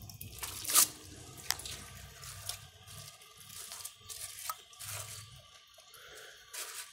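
A Kohler toilet tank refills with water after a flush, giving a trickling, gurgling flow broken by irregular splashes and clicks, fairly quiet and close.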